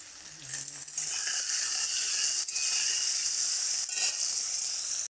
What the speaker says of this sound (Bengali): পাঁচ ফোড়ন দিয়ে কচুটা একটু ভালো করে ভেজে নেবে।